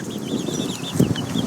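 Meat chickens clucking softly inside a pop-up chicken tractor outdoors, a steady murmur of close, overlapping clucks with a brief louder burst partway through, no voices.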